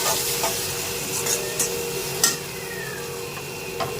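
Spices with coriander powder, red chili and garam masala fry in a pan, giving a steady sizzle broken by a few sharp metal scrapes and clinks from stirring, with no voices.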